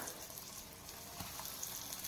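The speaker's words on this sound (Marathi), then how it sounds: "आता ही आपण वांगी फ्राय करून घेणार आहोत" Eggplant slices fry in hot oil in a pan on a gas stove, giving a steady, soft crackling sizzle with faint scattered pops throughout.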